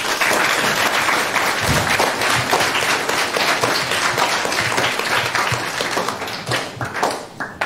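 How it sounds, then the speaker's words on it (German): A large audience applauds team Pixel Zeitmaschine at a youth hackathon final presentation in Hamburg, dense sustained clapping filling the room throughout and thinning slightly toward the end. "einen riesigen Applaus für die Gruppe Pixel Zeitmaschine"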